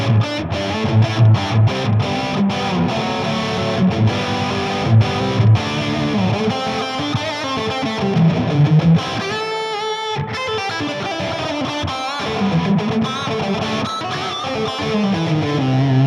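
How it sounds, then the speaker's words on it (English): An electric guitar played through a Marshall JCM900 Dual Reverb amp with a very high reverb wet mix sounds loud and distorted, with chords and single notes trailing into a long washy tail and a brief, quieter, thinner passage near the middle. "The reverb, the wet mix is very high."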